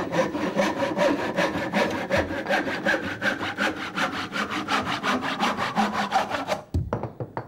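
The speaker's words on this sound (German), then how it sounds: "Der Vergleich einer japanischen Säge mit ihrem europäischen Pendant fällt jeweils selbst für skeptische Profis überraschend aus." A Japanese hand saw cuts through wood, pulled toward the body in steady, rapid strokes that rasp on continuously for several seconds before stopping abruptly.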